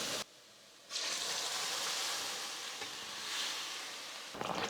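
Boiled mutton and its cooking water poured into a pan of sautéed onions for mutton varuval, giving a sudden loud sizzle and hiss of steam that holds steady, close and without talk.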